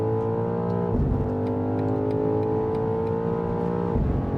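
A 2023 BMW XM accelerates hard on the autobahn toward top speed, a loud steady engine drone heard from inside the cabin with gear shifts near one second and near four seconds.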